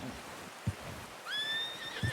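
A horse in the video game Red Dead Redemption 2 whinnies faintly in the distance during a hunting outing, a short high call between a few soft thuds in a quiet outdoor scene.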